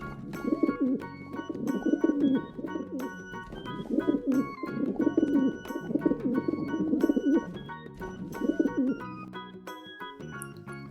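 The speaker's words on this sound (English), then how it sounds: "Pigeon." Pigeon cooing in repeated soft, throaty phrases, about five rounded bursts at a steady rhythm, close and clear with no talking over it.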